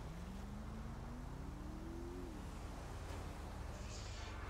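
A car engine in a police driving video game, a steady loud drone with a rising then falling rev, continuous over a dense noisy background without talk.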